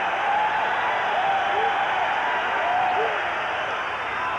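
Stadium crowd at a 1986 Red Sox baseball game rises in a sustained roar as Roger Clemens works toward a strikeout record in the 8th inning, a broad steady wash of cheering with a commentator's voice faintly over it.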